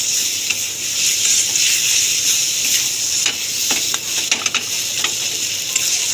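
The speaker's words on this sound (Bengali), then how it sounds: "মশলাটা আমি কষতে থাকবো" Spice paste for chicken kosha, made with only a few spices, fries in a pan with a steady loud sizzle while a spoon scrapes and stirs it in repeated clicks and scratches.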